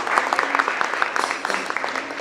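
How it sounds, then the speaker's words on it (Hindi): A crowd at a Ganpati festival gathering claps, loud and close, with distinct individual claps forming a dense, uneven patter. "अरे भाई ताली बजा दो थोड़ा।"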